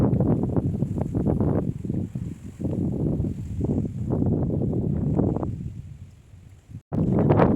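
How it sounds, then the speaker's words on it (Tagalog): Strong wind buffeting on the Tai Mo Shan mountain peak in Hong Kong, loud gusty roars rising and falling in waves close to the microphone, with a brief dropout near the end. "Guys, mahangin."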